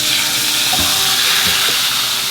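Turkey breast frying in a hot pan on a stovetop, a loud steady hiss of sizzling fat, close, with a few faint knocks of a utensil against the pan.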